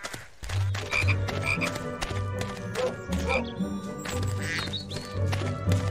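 A chocolate frog croaks repeatedly in a Harry Potter and the Chamber of Secrets PS2 cutscene, low croaks pulsing in bursts under game music and effects.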